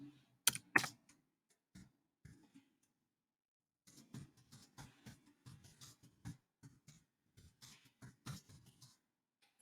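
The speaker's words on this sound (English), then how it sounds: "Okay, so you're just going to start typing." Keys clatter in short irregular bursts on a computer keyboard during an image-editing session, close and fairly quiet, with pauses between runs of typing and a few louder clicks near the start.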